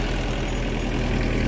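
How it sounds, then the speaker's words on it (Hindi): A VST Shakti 30 HP tractor engine with a rotavator attached runs steadily on an organic sugarcane farm, a loud, close, continuous low chugging drone with a faint knocking texture and no break for the whole stretch. "ये देखिए ये ट्रैक्टर है VST शक्ति 30 HP का, और उस पर ये रोटर है"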